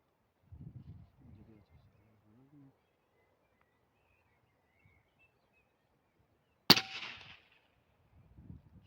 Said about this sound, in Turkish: 500 fit uzaklıktan ateş ediyorum